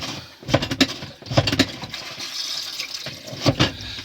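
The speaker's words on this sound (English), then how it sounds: "It's got a flush toilet." Flush toilet on board being flushed, with gurgling rushes of water in several bursts and a refilling hiss between them, close and alone.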